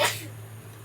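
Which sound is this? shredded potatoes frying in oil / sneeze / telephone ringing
sneeze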